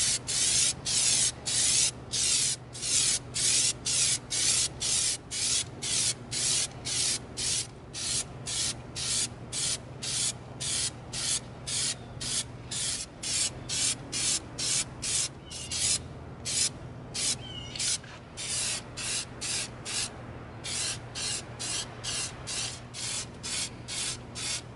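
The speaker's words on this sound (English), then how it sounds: "We're going to coat our Neuralyzer with our Plastidip." Plastidip rubber coating is sprayed from an aerosol can onto an EVA foam Neuralyzer prop in a long series of short, evenly spaced hissing bursts, close and steady, with no talking.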